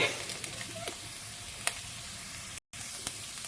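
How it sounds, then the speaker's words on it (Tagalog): Ginger fries in a pan with a quiet, steady sizzle, broken by a few sharp clicks and scrapes of stirring. "Hayaan muna natin maluto-luto ang luya at lumabas ang kanyang mga kataas."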